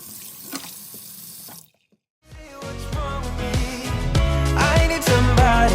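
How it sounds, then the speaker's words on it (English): Water from a tap runs into a kitchen sink for a rinse, a steady wash of flow that cuts off briefly before returning, with loud music playing over the second half. "here comes that satisfying rinse that we all love to see"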